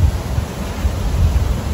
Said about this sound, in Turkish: İşte bir rüzgar var.